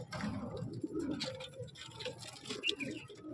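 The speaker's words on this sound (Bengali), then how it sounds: "এগুলো দাদার ব্রিডিং পায়রা, এগুলো দাদার ব্রিডার পায়রা" Breeder pigeons of an Andhra and Chennai breed coo softly nearby, low rolling calls mixed with light fluttering and shuffling, quiet overall.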